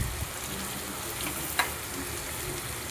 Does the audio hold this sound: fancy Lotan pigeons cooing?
no